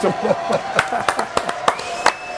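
Scattered applause from a small studio audience on a French radio or game show, a handful of separate claps spread over two seconds, with some talk underneath at the start.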